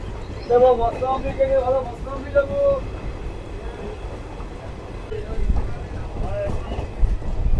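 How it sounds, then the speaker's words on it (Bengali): The 13113 Hazarduari Express pulls out of Berhampore Court station with a steady low rumble of wheels and carriages, some tonal squeals early on, and faint murmuring voices in the background. "বহরমপুর কোর্ট স্টেশন থেকে আমার ট্রেন ছেড়ে দিল"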